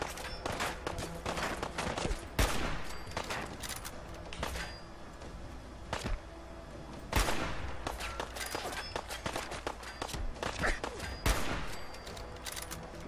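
Rapid bursts of gunfire from Fallout 4 combat, sharp repeated shots crackling in uneven volleys with brief pauses, loud and close throughout.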